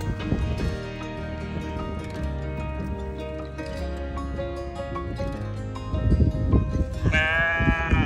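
A sheep bleats loudly and close by in repeated wavering, quavering calls, with shorter bleats toward the end, heard alone without talk in an outdoor setting on an English road trip.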